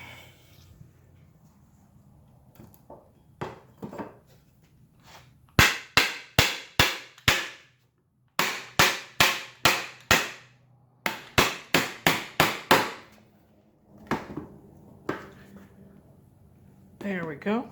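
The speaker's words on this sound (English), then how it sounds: "Hit it on with a rawhide mallet kind of fit." A rawhide mallet drives a tight-fitting part onto a rattan sword in sharp, close, loud knocks, struck in quick rhythmic bursts of four to six blows separated by pauses, with a few softer taps around them.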